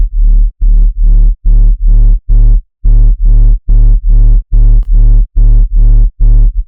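Loud, heavily distorted sub bass notes pulse in a steady rhythm of about a dozen chopped hits, thick and buzzy with short gaps between.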